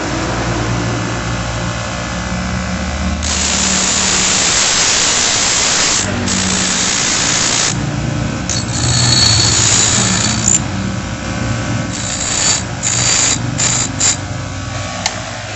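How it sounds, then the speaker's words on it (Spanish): A bench grinder cuts a long metal key. The steady, loud grinding hiss runs throughout with brief dips and bursts as the metal is pressed to the wheel. "les voy a mostrar en el esmeril cómo es que yo la corto"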